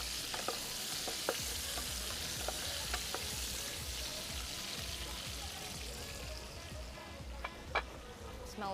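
Garlic fries quietly in a pan with a soft, continuous sizzle, broken by occasional light clicks and taps of a utensil; no talking.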